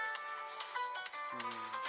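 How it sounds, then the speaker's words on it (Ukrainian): A mobile phone rings with an incoming call: a repeating electronic ringtone melody plays quietly and steadily throughout, with no talking over it. "Так обратно хтось дзвонить."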